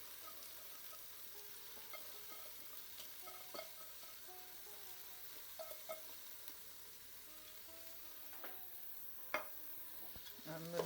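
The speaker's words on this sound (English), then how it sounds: "I'm going to give that a stir." Lentils with masala being stirred in a pan over a slow flame, a quiet simmering sizzle with intermittent scrapes and taps of a spoon against the pan, soft and close.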